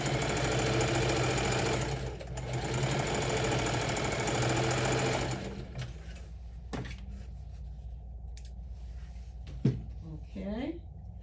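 A sewing machine stitching bandanna fabric for a quilted crossbody handbag, running in a fast steady mechanical whir for about five seconds before stopping, followed by quieter handling clicks and thumps.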